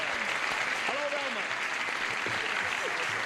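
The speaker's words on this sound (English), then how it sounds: "A little round of applause there for them." A 1976 television game-show studio audience applauds in a steady, moderately loud wash of clapping, with a voice briefly speaking over it.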